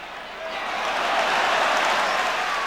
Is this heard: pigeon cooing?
no